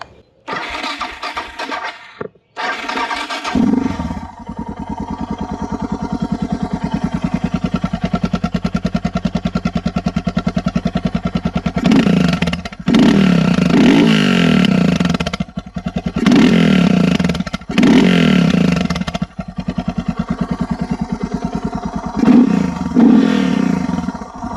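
A Suzuki DR650 dual sport motorcycle engine cranks and starts, then idles with a steady thumping beat before several loud revs rise and fall, close by with no talking.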